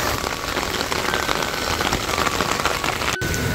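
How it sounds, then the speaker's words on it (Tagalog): Heavy rain pouring down in Japan, a dense, loud, continuous hiss of drops striking surfaces close by, with no voices. "Grabe lakas ng ulan"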